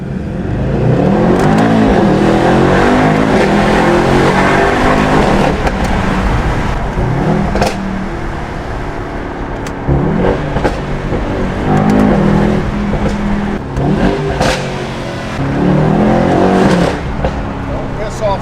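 Mercedes-AMG E63s W213 with full exhaust and OEM downpipes, revved hard among buildings, with loud aggressive engine roar rising and falling in repeated surges and crackles, with a voice partly audible underneath.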